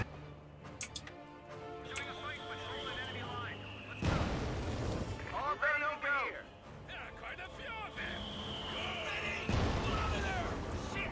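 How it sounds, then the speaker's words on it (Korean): Grenade blasts in a 3v3 friendly match of a shooter game, several loud booming explosions at about four and nine and a half seconds amid game noise, with voices talking excitedly over them. "와, 나이스 수류탄."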